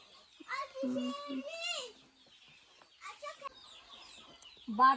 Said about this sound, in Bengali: মুরগিগুলো পালি মুরগিগুলো খায়